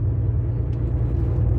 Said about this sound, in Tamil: வண்டி டைனா ஒன்று வருது